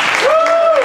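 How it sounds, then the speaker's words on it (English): A live improv comedy show's studio audience gives a short burst of applause, with a cheering voice rising over the clapping for under a second. "so a round of applause"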